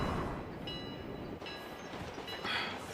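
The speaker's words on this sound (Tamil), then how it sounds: "டோரா கிட்ட யூஎம்பி ட்ரெயின் வந்தது" A train rumbles past in the BGMI mobile battle game, a steady loud roar of rolling wagons with faint clickety-clack and a brief high whistle-like tone near the end, with no voices over it.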